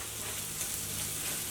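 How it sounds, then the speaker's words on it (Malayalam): Turmeric and spice powders fry in oil in a pan for a tomato fry, making a steady, close sizzle that holds evenly throughout, alone with no voices. "ഞാൻ മസാലപ്പൊടികളൊക്കെ ഒന്ന് മൊരിക്കുന്നുണ്ട്."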